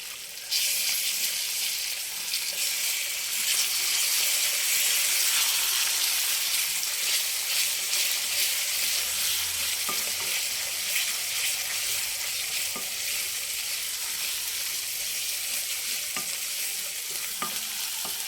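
Ginger garlic paste frying in a pan for a Telugu raw mango prawn dish gives a loud, steady sizzle throughout, with occasional soft clicks of stirring.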